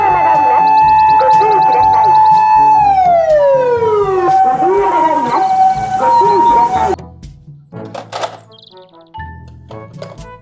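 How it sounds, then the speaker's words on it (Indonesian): An ambulance siren wails loudly and close, its tone sweeping down and shifting between pitches, then stops suddenly, leaving scattered clicks and a few faint beeps. "Mobil ambulans."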